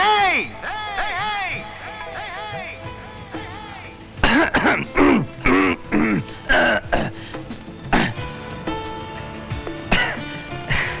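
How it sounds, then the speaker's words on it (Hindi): A newly posted army officer in a 1996 Bollywood film scene clears his throat several times, with rough, gravelly bursts mixed among voices and other film sound. "गला साफ कर रहा था।"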